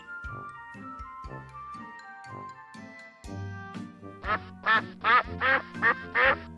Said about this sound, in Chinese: 鹅